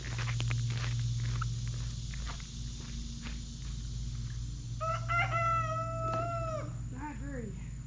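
Outdoors by a river on a fishing trip, a rooster crows once from a moderate distance, a long wavering call over steady engine-like rumble and footstep noise.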